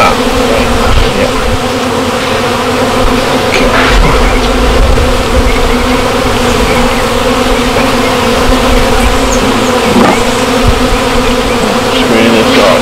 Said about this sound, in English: these are developing bees here